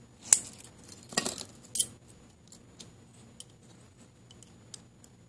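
Cheap, non-metal master-lock keys on a split flat key ring jangle faintly in a few short bursts, then scattered soft clicks and ticks in a quiet room.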